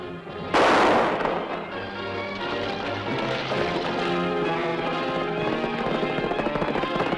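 In a western TV episode, one loud close gunshot cracks out, followed by rumbling horse-and-wagon commotion and background music.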